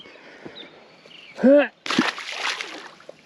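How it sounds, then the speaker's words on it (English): A released bass splashing back into a reservoir: a short, loud splash in the middle of the clip followed by a burst of sloshing water, with quiet outdoor background before and after. "All right, bud, let's get you back in the water."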